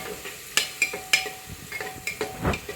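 Onion sautéing in a pan for Maharashtrian misal, heard as a quiet sizzle with scraping stirs and a few sharp clinks of a spoon against the pan, with no talk.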